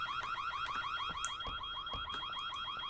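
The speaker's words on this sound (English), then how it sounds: "There's an alarm." An electronic alarm rings in the horror game White Day, a rapid repeating warbling tone pulsing steadily throughout, fairly faint and heard alone without talk.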